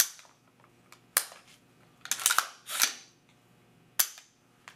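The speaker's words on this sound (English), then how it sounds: "Set to fire, dry fire." AR-15 rifle handled during cleaning and dry fired, with a few sharp metallic clicks and clacks from the charging handle, action and trigger, close and crisp against quiet background.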